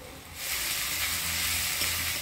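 Ginger garlic paste dropped into hot oil with frying onions bursts into a loud, continuous sizzle that starts abruptly and holds steady close by.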